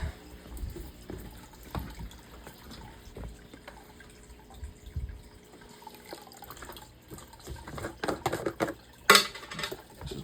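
Treated tap water pours and splashes into a bucket, irregular close trickling and patter with bursts of sloshing and one sharp knock near the end.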